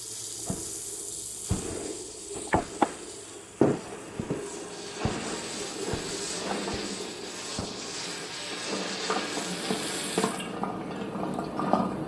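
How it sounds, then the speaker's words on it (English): A water faucet running in a home, a continuous hissing stream with scattered knocks and clunks over it, fairly quiet and steady until it eases off near the end. "the water faucet just turned on"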